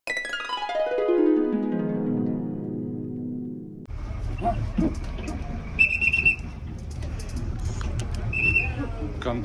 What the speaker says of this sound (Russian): Кондуктор все время свистит в свисток.